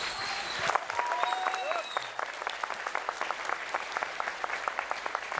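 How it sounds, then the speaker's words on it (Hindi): Sustained applause from a large audience, dense and steady clapping throughout with a faint voice or two rising above it. "एक ये प्यार है लोगों का जो इतनी तालियां इतनी देर तक बजती हैं।"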